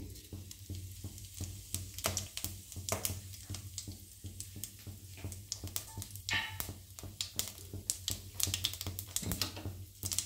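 Whole spices (cardamom, cinnamon, cloves and cumin) crackle and spit in hot oil for tempering, with a steady patter of sharp pops over a low hiss.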